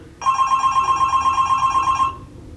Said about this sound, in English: when the phone rang